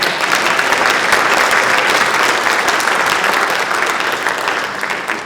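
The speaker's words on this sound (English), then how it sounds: "we give them an extra round of applause" Loud, sustained applause from a seminar audience of council presidents, a thick steady wash of many hands clapping that tapers slightly toward the end.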